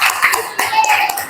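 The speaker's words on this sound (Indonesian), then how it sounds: "Tepuk tangan." Students in a classroom give a brief burst of hand clapping, quick uneven claps close by with some voices mixed in.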